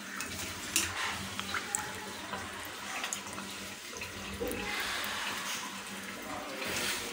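Water runs steadily into a bucket indoors, a continuous splashing stream at moderate, close volume with a few faint clinks.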